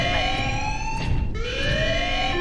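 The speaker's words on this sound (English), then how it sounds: "Alarm. Structural damage. Warning." An alarm siren wails in the Space Marine video game, a loud, steady electronic tone sweeping up and down in repeated cycles over a rumbling background, with no voices heard.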